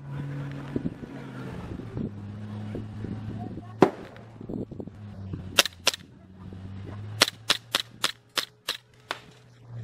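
Airsoft pistol shots fired at a tank during an airsoft game, a handful of sharp snapping pops growing into a quick series near the end over low engine rumble and wind.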